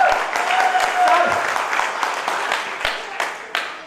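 An audience at a Hindi-language business recognition event applauds steadily for a few seconds, with scattered individual claps and a faint voice underneath, gradually thinning toward the end.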